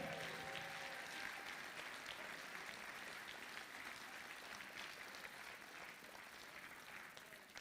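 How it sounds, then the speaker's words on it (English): Audience applause fills an outdoor Hawaiian slack key guitar festival in Kona, a dense sustained wash of many hands clapping that slowly tapers off, with a brief whistle near the start. "One more time, a nice round of applause"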